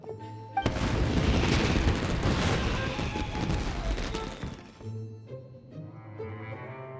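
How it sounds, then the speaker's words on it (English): Fireworks burst in Genshin Impact, a sudden loud barrage of booming, crackling explosions lasting several seconds before dropping back to softer game music. "Yoimiya, this is turning into a bit of a fireworks display."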